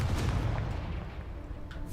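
Explosive Confringo spell blasts in Hogwarts Legacy, a dense low rumbling boom filling the full two seconds, loud and sustained with no voice over it.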